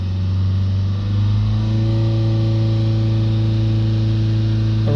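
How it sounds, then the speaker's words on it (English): A Ford diesel engine held at about 3000 RPM, a loud, steady drone with strong low harmonics that rises slightly after the first second and stays constant, heard close up with no talking. "Let's hold it up to sort of 3000 RPM."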